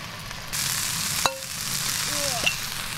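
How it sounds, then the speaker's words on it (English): Spring onions fry in a pan outdoors with a steady, close sizzle and a couple of faint clinks of a utensil. "I'm just going to fry off just a few of these little spring onions that I brought with me."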